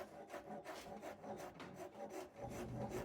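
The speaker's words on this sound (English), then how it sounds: "I decided to go over to the rasp now" A wood rasp rounds the edges of a wooden handle shaped with hand tools, giving quiet, rhythmic scraping strokes in a steady back-and-forth pattern.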